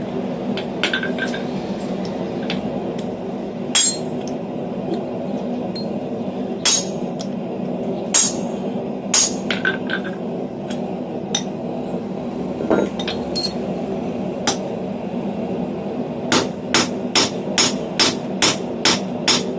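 Sharp metallic hammer strikes on hot steel over an anvil ring out, sparse at first, then a fast run of blows near the end, over a steady low background hum.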